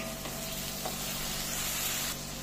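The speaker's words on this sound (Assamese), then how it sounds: "আলুটো ইয়াৰ লগত ভাজি লওঁ" Potatoes fry in a pan alongside onions for a banana stem curry, giving a steady, fairly soft sizzle with a hiss that carries on throughout.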